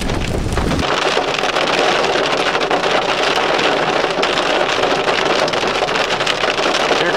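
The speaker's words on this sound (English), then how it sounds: "So far it's just some big raindrops." Big raindrops fall during an approaching squall storm, a loud, steady wash of rain and gusting wind noise that fills the whole stretch after a brief opening moment, with no talking.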